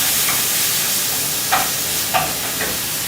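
Tomatoes tipped into a pan of onions frying until translucent for Indian-style macaroni, giving a steady hiss of sizzling with a few brief stirring scrapes on top, close and fairly loud, no voices.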